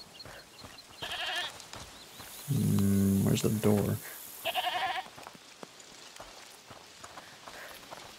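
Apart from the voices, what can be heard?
goats bleating in video game A Plague Tale: Requiem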